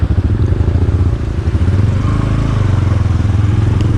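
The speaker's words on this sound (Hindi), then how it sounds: "यहाँ पर हमारी बाइक मौजूद है, बैठते हैं और अपना जो सफ़र है वो स्टार्ट करते हैं।" A motorcycle on a forest trail near Sharan Forest in Skardu idles and then pulls away, its engine throbbing loud and close with a steady mid-pitched rumble and some clatter.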